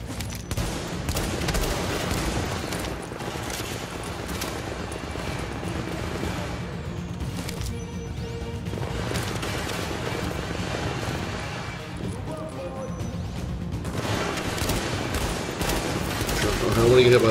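Gunfire from a turret and other weapons in Tom Clancy's The Division, a dense, continuous battle din with repeated shots and rumble that builds toward the end, with no clear talking.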